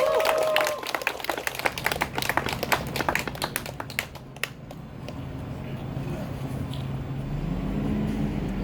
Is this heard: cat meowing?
no